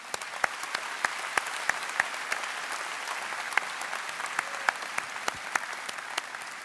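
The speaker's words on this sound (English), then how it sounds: "I think he deserves a big round of applause" An audience applauds Mr. Johnson, a teacher retiring after 28 years at a high school. The dense clapping holds steady for several seconds, with sharper individual claps standing out against the continuous wash.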